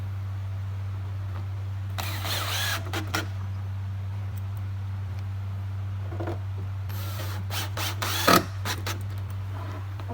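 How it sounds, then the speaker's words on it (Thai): A power driver runs long screws up through the bottom of a room partition panel, heard as two bursts of close whirring, the second ending in a sharp clack, over a low steady electrical hum. "ก็จะยิงน็อตตัวยาวสวนด้านล่างด้วยนะคะ"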